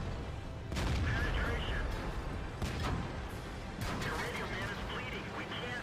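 Artillery shells boom and impact repeatedly in a World of Tanks battle, with several sharp blasts at irregular intervals over rumbling background noise while a voice talks.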